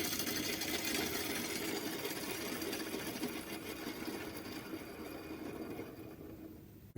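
Homopolar motor of stacked neodymium magnets spinning fast against a brush at full power with a bit of smoke, a dense buzzing, rattling whir held steady for several seconds before cutting off abruptly.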